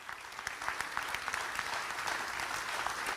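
An audience rises and applauds for Vice President Joe Biden at a 2019 event, a sustained round of crisp, many-handed clapping that stays fairly faint and distant throughout.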